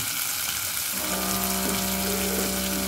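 Water poured into a pot of chicken soup with chicken wings sets off a steady, loud hissing sizzle that fills the whole stretch, with a faint rushing wash beneath and no voices.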